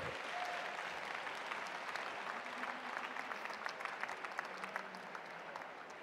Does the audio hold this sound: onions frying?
no